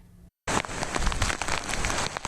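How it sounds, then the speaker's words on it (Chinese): Heavy rain pours down hard in Kaohsiung as Typhoon Haikui brings strong wind gusts: a dense, loud, continuous hiss of rain that starts abruptly after a short quiet gap. "大雨直直上"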